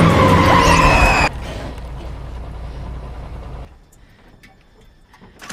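A mail delivery car skids to a sudden stop on a road in a film, a loud tire screech for about a second that cuts off into lower rumbling noise and then fades quiet.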